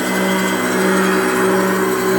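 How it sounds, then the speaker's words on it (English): A flywheel resurfacing machine grinds a flywheel in a workshop, producing a loud, constant mechanical whine with steady tonal hum and no pauses or voices. "There's a flywheel resurfacing being done"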